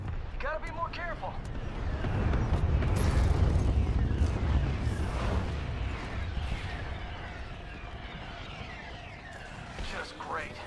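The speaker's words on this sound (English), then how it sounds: "The harvester's getting barraged by mortar titans." Mortar titans barrage a harvester in the video game Titanfall 2, heavy booming impacts rolling into a continuous low rumble of artillery fire, with radio-style voices talking over the battle.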